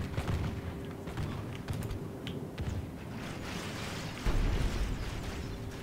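Gunfire in the strategy game Total War: Call of Warhammer, a steady crackle of shots and mechanical clatter, with a louder burst of firing near the end.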